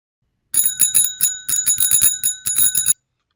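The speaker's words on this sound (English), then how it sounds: "we are going to try sound of a bicycle bell." AI-generated bicycle bell effect: a rapid run of bright metallic dings, rung repeatedly for about two and a half seconds, loud and close with no other sound.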